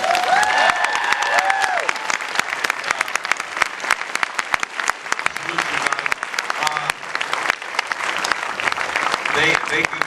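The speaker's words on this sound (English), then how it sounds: "let's give a nice hand and applause" Audience applause at a Los Angeles film premiere with Q&A, a dense steady clapping crowd sustained throughout, with brief whistles and a few voices calling out near the start.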